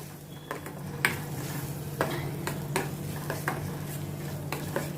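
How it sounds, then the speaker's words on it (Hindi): Chopped tomatoes cook in oil in a pan for a lauki kofta curry, giving a steady low sizzle with repeated scraping and stirring clicks from a spoon against the pan. "इसमें मैं अभी ये चॉप्ड टोमेटो डालती हूँ। टमाटो को भी अच्छी तरह से मैं ये पहले कुक करती हूँ ताकि ऑयल सब सेपरेट हो जाए।"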